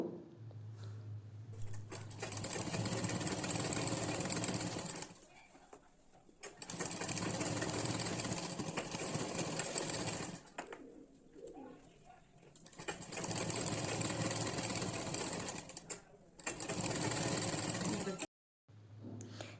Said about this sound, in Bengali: কাপড়ের সোজা দিকে সোজা বসিয়ে এটাকে সেলাই করে নেব